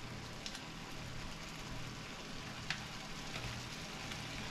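Bacon frying in a kitchen pan, a continuous close hiss and crackle with scattered sharper pops throughout, no talking over it.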